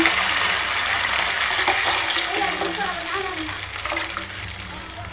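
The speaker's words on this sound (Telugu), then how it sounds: "ఈ పులుసు అయితే ఇందులో పోసేసుకుంటున్నాను" Tamarind gravy is poured into a cooking pan with a loud, steady liquid rush and sizzle. The sound eases slightly as the pour continues.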